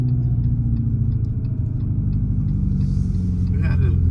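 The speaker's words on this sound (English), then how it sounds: "the exhaust definitely makes it way cooler than when I was driving a Tesla" Deep synthetic exhaust drone from a 2025 Dodge Charger Scat Pack EV, a loud continuous low rumble heard from inside the car, holding steady with a slight swell toward the end while people talk over it.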